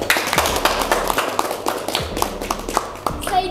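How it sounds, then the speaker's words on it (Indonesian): Scattered hand clapping from the audience at an Indonesian Independence Day talk show, a few loud irregular claps rather than full applause, with faint voices underneath. "boleh kita kasih tepuk tangan kepada kedua narasumber"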